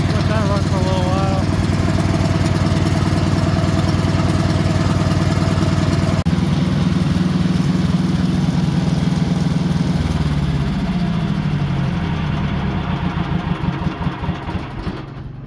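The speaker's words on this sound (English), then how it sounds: "Give her a little choke, a little throttle. Let that run for a little while." Tractor engine running with choke and throttle applied, a loud, steady mechanical rumble close by that settles into an idle and then slows and sputters toward the end.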